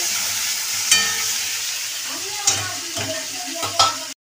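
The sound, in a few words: potatoes and ridge gourd frying and stirred in a pan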